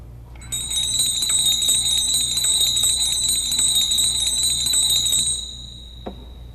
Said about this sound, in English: This organ can create a zimbalstern effect through the use of a MIDI device called the Allen MDS expander.